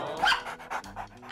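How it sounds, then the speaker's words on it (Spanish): A dog pants rapidly and close by in a short run of quick, breathy huffs with a faint whine at the start. "Un perro."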